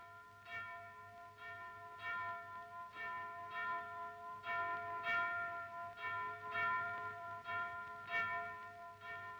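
Church bells ring out for Easter in Cyprus, a steady sequence of repeated rich metallic strikes with lingering overtones, moderately distant and alone.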